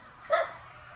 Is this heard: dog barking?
yes